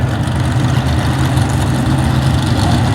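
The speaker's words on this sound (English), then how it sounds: "343 cubic inch Chevy engine" A 343 cubic inch Chevy engine in a C Dragster idles loud and close, a steady deep rumbling throb with no break.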